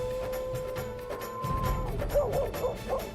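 Dog crying and whimpering at night, a series of high whining yelps and wavering cries under faint background noise, moderately loud and fairly close.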